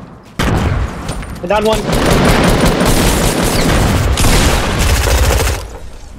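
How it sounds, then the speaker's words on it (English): Grenade explosions and gunfire in Fortnite Battle Royale, loud overlapping blasts and rapid shots forming a sustained barrage that fades near the end, with a player talking over it. "I'm just gonna get rid of my grenades."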